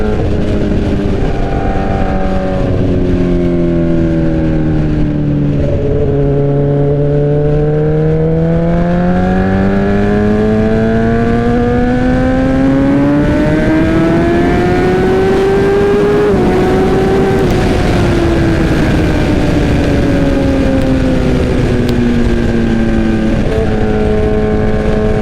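A 2007–2008 Suzuki GSX-R 1000 sportbike's engine runs steadily under load, its pitch sweeping down then climbing and falling again as the rider rolls the throttle, loud and close with constant wind rush and no talk.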